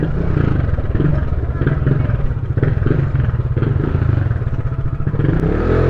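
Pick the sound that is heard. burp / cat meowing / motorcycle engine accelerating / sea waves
motorcycle engine accelerating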